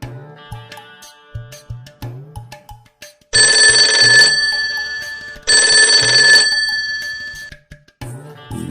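Cartoon telephone ring effect for a phone call: two long bright electronic ringing bursts, loud and close, with short plucky musical notes before and between them.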